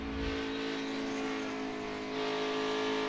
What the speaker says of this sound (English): Listen to him work the throttle.